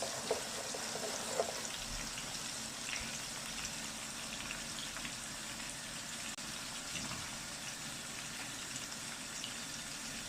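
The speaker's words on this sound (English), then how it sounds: "Let it fry for some seconds or minutes." Fried rice fries in a pan with a steady, soft sizzle and hiss, faint and continuous, a few light clicks near the start and no voices.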